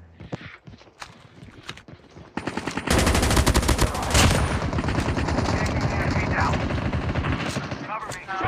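Gunfire in the mobile shooter Call of Duty Mobile: a few scattered shots, then a loud sustained automatic burst of rapid, evenly spaced cracks lasting several seconds, close and dominant.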